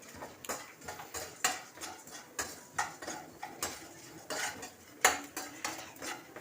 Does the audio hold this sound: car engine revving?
no